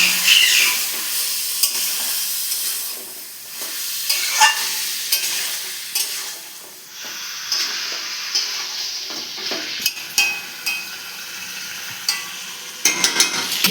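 Onion paste frying in a pan with other paste while being stirred, a steady close sizzle broken by repeated scraping stir strokes of a spoon against the pan, no voices.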